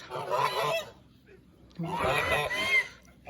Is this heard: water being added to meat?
no